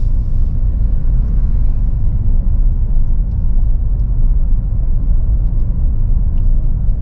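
Cars at a Florida drag racing strip, a dense continuous low rumble of engines holding steady and loud throughout with no distinct passes or pauses.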